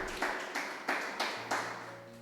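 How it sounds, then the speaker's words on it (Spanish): Five sharp, evenly spaced claps ring out in a church during a Spanish-language sermon, each one a crisp broadband burst that decays quickly, with no talking over them. "Dele un aplauso al Señor"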